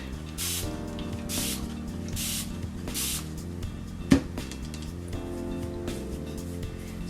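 Several short hissing bursts of a spray bottle misting water onto a paintbrush, evenly spaced, over a steady background hum.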